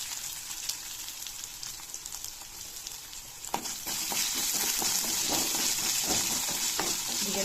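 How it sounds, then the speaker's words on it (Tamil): Mustard seeds, fenugreek and crushed garlic spluttering in hot sesame oil, a soft crackling fry that jumps louder partway through into dense popping and sizzling, with no voices. "கடுகு வெந்தயமும் நல்லா பொரிஞ்சிட்டு"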